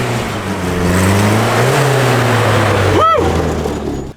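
A Suzuki SJ fitted with a Camry engine revs hard while climbing in sand dunes, the loud, close engine note rising and holding steady, and a short voice breaks in near the end.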